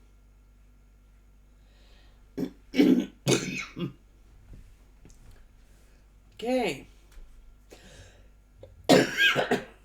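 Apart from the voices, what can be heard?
cough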